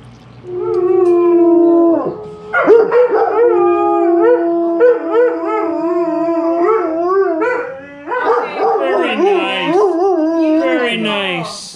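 Part-husky dog howling in a long, wavering, close and loud morning song, with rising and falling tones and short yips, continuing for about ten seconds.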